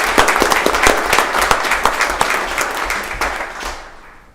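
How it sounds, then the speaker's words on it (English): A modest town meeting crowd applauds the library trustees, with individual claps clearly distinct in a moderately sized room, steady at first and then thinning and fading out over about four seconds. "I'd like to give them a round of applause"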